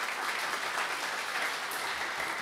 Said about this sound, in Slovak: Ešte jeden potlesk pre neho.